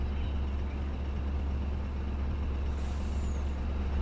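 Truck engine idling with a hiss of air brakes in the game Farming Simulator 19, a steady low rumble throughout with a brief airy release near the end, no talk.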